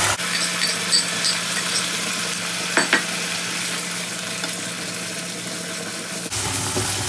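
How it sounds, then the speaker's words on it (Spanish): Oyster mushrooms with garlic, parsley and wine sizzle steadily in a hot pan over high heat while a utensil scrapes and stirs now and then, close up with no voices. "Tenemos que estar removiendo a fuego fuerte para que se evapore el alcohol del vino"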